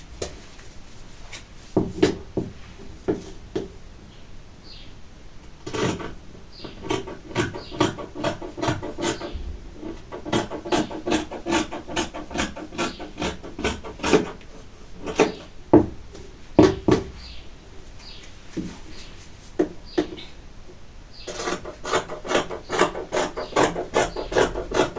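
Scissors cutting through trouser fabric along marked lines, a run of crisp snipping and rasping strokes in irregular bursts, close and fairly quiet, with short pauses between cuts and no talk.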